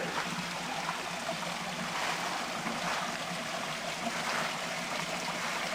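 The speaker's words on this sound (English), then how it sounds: "There's this cute little waterfall right here." Water from a small waterfall on Grove Run stream rushes in a steady, even wash through a wooded autumn setting, heard alone with no talking.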